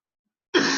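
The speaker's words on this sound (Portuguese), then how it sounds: "engasguei, então estou tossindo por outros motivos." A single short cough after choking bursts out of silence, close and fairly loud, with no talk around it.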